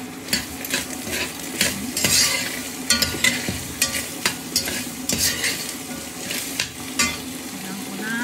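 Garlic, ginger and lemongrass sauté in a pan for a goat sinampalukan, with a busy sizzle under repeated scraping utensil strokes and occasional metallic clinks against the pan, close and fairly loud.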